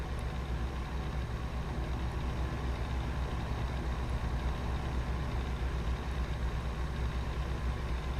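A Cummins N14 truck engine in American Truck Simulator, a steady, heavy low drone held evenly throughout with a faint thin whistle riding on top.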